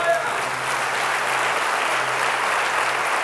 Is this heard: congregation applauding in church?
yes